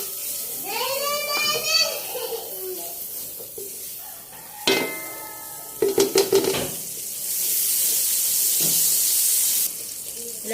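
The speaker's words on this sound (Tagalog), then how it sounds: "ating ipagigisay itong ating star margarine para mas malasa" Star margarine sautéing in a pan sizzles and hisses, building to a steady fry near the end, with utensil stirring clatters and a voice talking over the first part.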